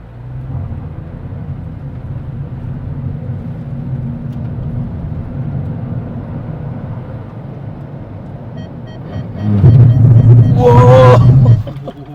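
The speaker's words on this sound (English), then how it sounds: "所以这个是 Full ABS braking" A Proton S70 brakes hard from roughly 70 km/h under full ABS as automatic emergency braking takes over. Steady road and engine rumble runs under a voice, then a loud, harsh surge of braking noise with a pulsing, whining edge lasts about two seconds.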